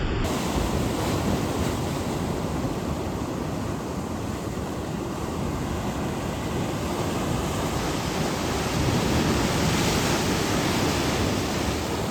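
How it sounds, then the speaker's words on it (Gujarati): Sea waves crash and surge continuously on the shore while fishing, a loud, steady roar of surf mixed with wind buffeting the microphone and no voices. "મોજા બહુ ભયંકર છે"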